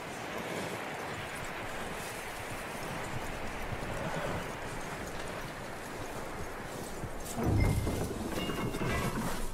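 Steady clip-clop of horse hooves at a continuous gait in the video game Red Dead Redemption 2, with a dense rumbling background and a louder thump partway through.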